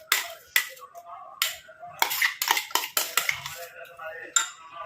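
Henna paste is spooned into an iron kadai in a series of sharp, close metallic clinks and scrapes, spaced irregularly, with quiet gaps between.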